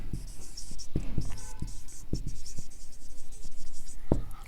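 Writing on a board during a differential equations lecture, close scratchy marker or chalk strokes with several sharp taps, steady over a constant room hiss.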